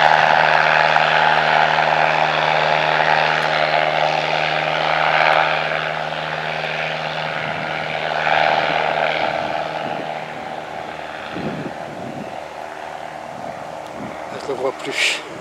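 Propeller aircraft engine droning loudly and steadily at close range, rising and fading slightly as the plane moves, with a few handling bumps near the end; no talking.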